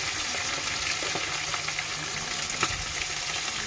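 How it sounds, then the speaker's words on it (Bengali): Onions frying until red in a pan, a steady soft sizzle with occasional stirring clicks, close and continuous with no talk. "পেঁয়াজটা লাল করে ভাজা হয়ে গেছে, এখন আমি মশলাগুলি সব দিয়ে দেবো"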